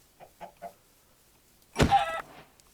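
Chickens in the video game Minecraft, three short soft clucks in quick succession followed by a louder, longer squawking cluck, heard close and without talk.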